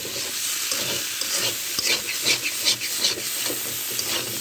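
Potatoes and bori sautéing in a pan with spice paste of black pepper, shahi cumin, garam masala and green chili, giving a dense, loud hissing sizzle with stirring scrapes, no voices.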